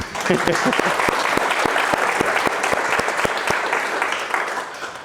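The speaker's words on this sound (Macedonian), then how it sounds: "може аплауз" An audience claps at a poetry evening with a pianist, a full burst of applause with distinct individual claps that holds steady and then eases slightly toward the end.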